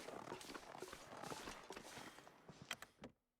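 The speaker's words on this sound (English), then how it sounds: "I think we just heard the bear's footsteps right there." In the survival game The Long Dark, a bear's footsteps sound as a faint series of soft, irregular thuds that stop abruptly into silence.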